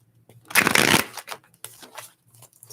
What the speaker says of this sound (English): Let's do one more shuffle here for Padma.